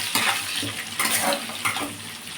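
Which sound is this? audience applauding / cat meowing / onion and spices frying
onion and spices frying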